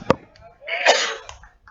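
A person gives one sharp cough close to the microphone, followed by a longer, raspy throat-clearing, then a few faint sounds before things go quiet.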